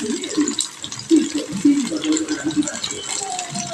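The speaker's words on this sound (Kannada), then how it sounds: "ಒಂದು ಈರುಳ್ಳಿ ಕಟ್ ಮಾಡ್ಕೊಂಡಿದ್ದೆ ಹಾಕ್ಕೊಳ್ತಾ ಇದ್ದೀನಿ." Chopped onion dropped into hot oil with cumin, giving a rough sizzling hiss with rattling and clattering, close, with some voice mixed in.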